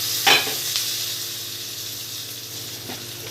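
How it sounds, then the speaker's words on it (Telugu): Tempering for a curd dish sizzles steadily in a pan after a sharp initial burst and stirring clatter, a continuous close frying hiss with no speech. "తర్వాత ఈ తాలింపు దాంట్లో వేసేసాను"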